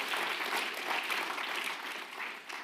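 Audience at a talk gives brief, faint applause, a soft continuous patter of clapping from across the room.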